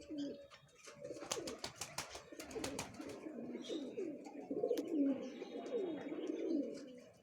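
Punjabi Malwai pigeons in a home loft coo in steady overlapping rolling phrases, close and moderately loud, with a cluster of sharp clicks or taps early on.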